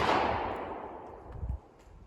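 A handgun fires one loud, close shot at the very start with its recoil left uncontrolled, the blast trailing off in a long decaying rumble before a brief low thump near the end.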